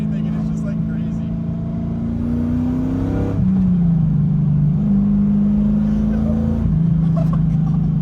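An LS V8 swapped into a Toyota FRS accelerating from inside the cabin, a steady deep engine drone rising in pitch then dropping as it shifts and pulls again, with a person talking over it.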